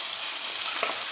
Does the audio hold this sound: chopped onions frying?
yes